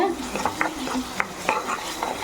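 Curd is being stirred into okra masala in a pan, giving soft wet scraping and clinking strokes against the metal at an uneven pace, with a faint sizzle underneath and nobody talking.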